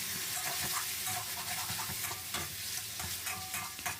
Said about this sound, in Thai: แล้วก็หยอดลงไปได้เลยนะครับ จากนั้นก็ผัดนะครับ